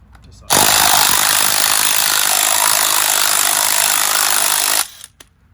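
An impact drill blasts bolts off the front end arm of an HQ–WB era Holden, a loud, steady, rattling burst of about four seconds that cuts off abruptly into quiet.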